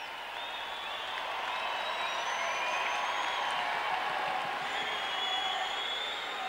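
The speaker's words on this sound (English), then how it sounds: "Fans seem to be applauding him from behind the net." Ice hockey fans behind the net applaud the Nottingham Panthers goalie Torchia during a Sheffield Steelers game, a steady, dense wash of clapping and crowd noise filling the arena throughout.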